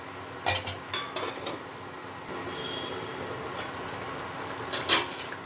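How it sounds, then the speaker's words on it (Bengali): Fried raw banana koftas drop into simmering curry gravy in a pot, metallic scrapes and knocks of a ladle against the pot at the start and end over a steady low bubbling. "ভেজে রাখা কোপ্তাগুলো দিয়ে দিচ্ছি। ঝোলের সাথে একটু ফুটিয়ে নেব"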